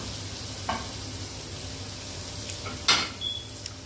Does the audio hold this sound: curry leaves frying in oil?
yes